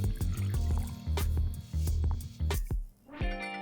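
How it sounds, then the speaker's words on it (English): Cold water pours and splashes steadily into a pressure cooker pot for Afghan-style kabuli pulao, with bursts of gurgling and dripping and a brief lull near the end. "Let's add in water."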